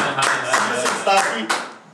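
Audience on a talk show claps in short bursts, a couple of brief rounds of applause mixed with speech.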